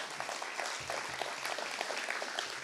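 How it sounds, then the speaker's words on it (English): Steady applause from a crowd at a faculty luncheon, a dense patter of clapping that carries on without pause for a few seconds. "You just got an accolade, so round of applause to Brian Rucker."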